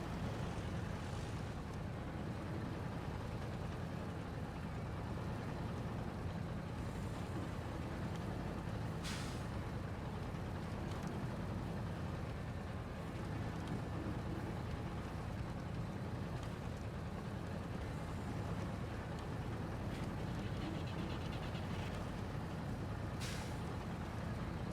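A KHAN Lo4F truck in the Expeditions video game drives under its own power in low gear with the diff lock engaged and low tire pressure, giving a steady, even engine drone throughout.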